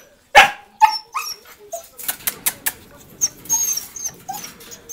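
Pet dogs left at home, barking and whimpering: a sharp close bark opens, followed by scattered yips, whines and short barks in an uneven rhythm, loud and near, with no talking.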